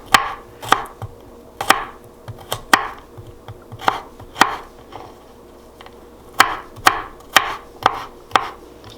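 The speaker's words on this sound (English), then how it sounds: "Just chop it up." A knife chops food on a cutting board in sharp, close, irregular strokes, about a dozen crisp thuds with brief pauses between groups, and no voices.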